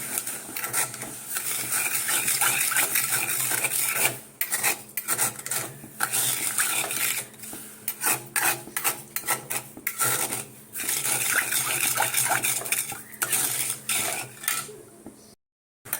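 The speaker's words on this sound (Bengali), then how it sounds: "দেখো চিনি রসটা ফুটছে" Sugar and water boiling into syrup in a hot kadai for jalebi, with a utensil steadily scraping and rasping against the pan through a continuous bubbling hiss, pausing briefly a few times.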